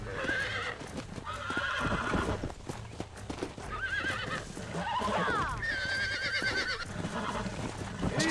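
A wild horse being tamed in the video game Red Dead Redemption neighs and whinnies repeatedly over thudding hooves and struggle noise, loud and close, with a voice breaking in briefly.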